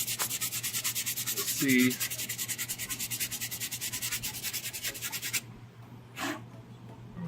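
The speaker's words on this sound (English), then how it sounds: "So here I've got a 150 grit sandpaper. That should be enough to get through all 3 layers." A helmet is sanded with 150-grit sandpaper through three layers of paint. Rhythmic back-and-forth rubbing strokes come close and steady, a voice briefly speaks partway through, and the sanding then stops for a quieter stretch.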